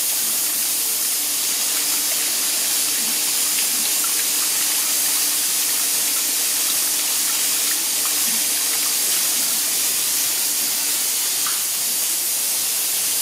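Water flows through the purge valve of a 500-litre tank under gentle flow, giving a steady, loud hiss and rush that holds unbroken throughout, with faint scattered clicks and gurgles underneath.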